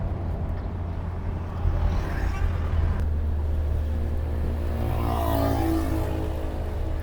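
Mercedes CL55 AMG being driven, with a low steady engine hum and tire rumble heard from inside the car, plus a brief swell around the middle. Someone talks over the sound throughout.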